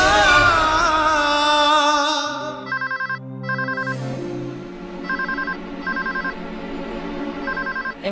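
After a musical passage fades, a telephone rings in repeated short trilling bursts with brief gaps between them.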